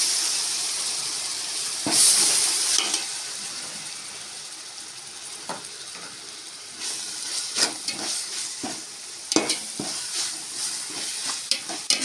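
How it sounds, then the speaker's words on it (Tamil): Ginger garlic paste sautéing in hot oil for chicken biryani, a steady sizzle with a loud burst near the start and scattered scraping stir strokes later, no voices. "இஞ்சி பூண்டு பார்த்தீங்கன்னா நல்லா நம்ம அந்த பச்சை வாசனை போகிற வரைக்கும் வதக்கணும்"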